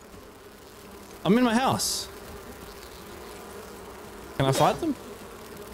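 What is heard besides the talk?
buzzing bees in the video game Enshrouded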